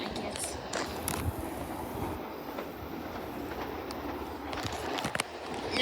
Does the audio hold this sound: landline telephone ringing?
no